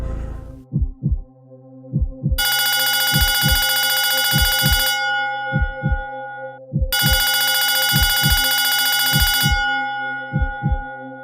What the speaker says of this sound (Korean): 설마 어떻게 토순이가 나한테 전화를 걸겠어?